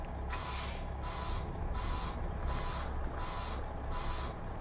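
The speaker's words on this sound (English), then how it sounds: "Yeah, that's an ugly buzzer." A harsh truck buzzer alarm in an International HX520 in American Truck Simulator pulses in a steady on-off rhythm over continuous cab and engine noise.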